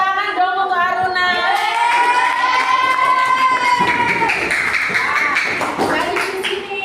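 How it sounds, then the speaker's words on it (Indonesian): Children in a classroom clap for a classmate, sustained clapping and tapping mixed with cheering and shouting voices, with a prolonged sung or called-out voice riding over the noise. "Tepuk tangan dong untuk Aruna."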